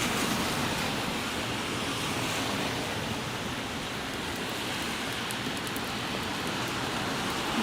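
Steady rain falling on a Toronto street on a wet afternoon, a dense continuous hiss that stays even and fairly loud throughout with no voices.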